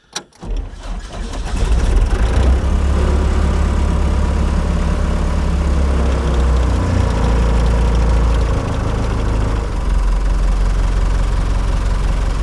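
ASV PT100 diesel skid steer cold-starting after glow plug heating: a brief crank catches and the engine roars up into a loud, steady, low rumbling idle with a diesel clatter that runs on close and continuous.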